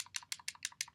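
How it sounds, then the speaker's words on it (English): Rapid clicking from play in a block-building computer game, about seven evenly spaced crisp clicks in one second, close and faint. "You might hear some clicking."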